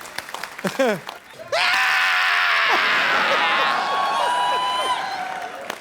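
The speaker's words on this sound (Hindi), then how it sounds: "जोरदार तालियां नरगिस के लिए" A TV comedy studio audience breaks into loud applause and cheering for actress Nargis, a sustained roar with whoops that follows a brief spoken shout and continues strongly to the end.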